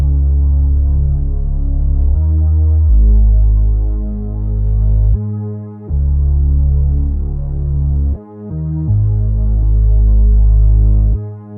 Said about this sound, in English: I sound designed this on my analog synth, and I played this pattern.